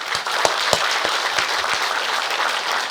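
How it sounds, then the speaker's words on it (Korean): An audience at a Seoul ceremony honoring North Korean defectors claps steadily, a close, even wash of applause with a few sharper individual claps standing out. "힘찬 박수 한번 부탁드립니다."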